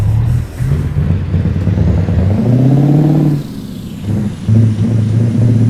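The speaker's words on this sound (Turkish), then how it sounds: "Kamyonun sese bak be harbiden efsane" A fully loaded Scania truck engine in the Euro Truck Simulator 2 game drones low and loud. Its pitch climbs through gear shifts, dips once, then rises again, with no talk.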